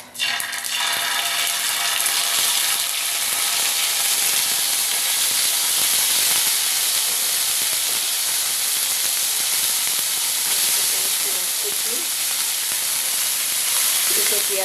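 Ginger-garlic paste sizzles in hot oil with cumin seeds for a Chinese-style curry, giving a loud, steady, dense hiss that runs unbroken for the whole stretch with no talk over it.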